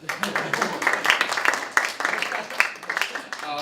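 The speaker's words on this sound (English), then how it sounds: "Let's have a round of applause for Bill." Audience applause at a Purim party mentalist show, dense clapping with sharp individual claps standing out, steady and fairly close for several seconds.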